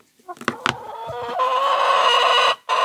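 Chickens cluck and squawk in short bursts, then a loud sustained agitated squawking chorus fills the air before cutting off abruptly.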